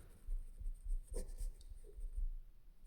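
Pen or chalk writing out a Class 10 polynomial math solution, soft scratchy strokes in short bursts with faint pauses, quiet and close.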